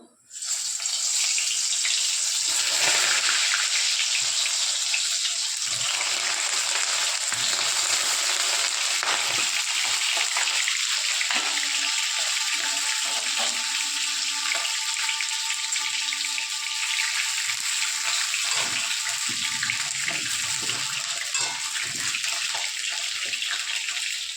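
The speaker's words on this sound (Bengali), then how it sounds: "কড়াইয়ের মধ্যে সর্ষের তেল দিয়ে দিয়েছি। তেলটা গরম হয়ে গেছে, এখন পটলগুলো দিয়ে দেবো।" Pointed gourd frying in hot mustard oil in a wok over a gas flame, a loud steady sizzle that hisses on without a break, with a few faint clinks partway through.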